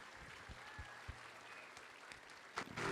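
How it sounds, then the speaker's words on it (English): Applause from a school assembly for a student rock band, steady clapping with a few louder claps standing out and a brief rise near the end. "can we just get one more round of applause"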